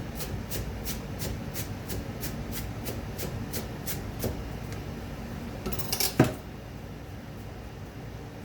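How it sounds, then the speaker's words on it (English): Knife coarsely chopping food on a board, a quick, regular run of crisp taps for several seconds, then a pause and a louder clatter of a utensil. "Going to chop that up fairly coarse, not too coarse"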